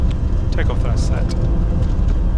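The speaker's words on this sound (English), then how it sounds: "Takeoff thrust set." Challenger 605 business jet engines spooling at takeoff thrust on the runway at Nice, a loud, dense broadband roar from the cockpit with pilots talking over it.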